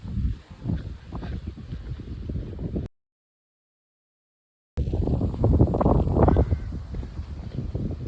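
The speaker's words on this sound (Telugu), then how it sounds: "చాలా గాలులు వస్తున్నాయి." Strong wind buffets the microphone out in the Scottish countryside, a loud continuous rumbling roar with a short gap of silence in the middle.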